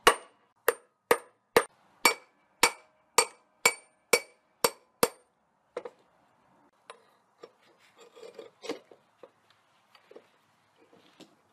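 Hammer striking a socket to drive a universal joint cap out: ten sharp, evenly spaced metallic blows, close and loud, followed by quieter clinks and shuffling of tools.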